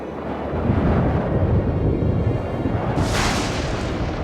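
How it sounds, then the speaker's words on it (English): Deep, rolling thunder of an approaching storm rumbles loudly and steadily, swelling with a harsher crackling burst near the end, with no voices. "let's get back before that storm hits"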